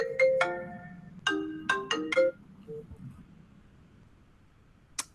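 A phone ringtone plays from an incoming call, a series of bright melodic tone bursts in two quick groups, then fades to quiet room background with a faint click near the end.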